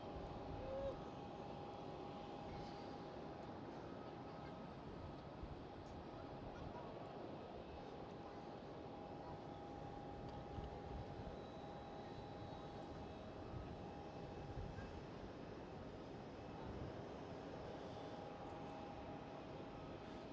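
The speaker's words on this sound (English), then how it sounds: "Lufthansa A319." A Lufthansa Airbus A319 hums faintly at an airport, a steady distant engine drone with thin whining tones running throughout, no voices over it.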